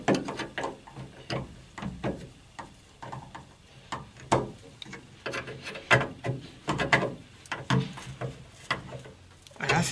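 A fitting is tightened on a Citroën Traction 11B during windscreen reinstallation, giving a close series of sharp, irregular ratchet-like clicks and small metallic knocks that keep coming throughout.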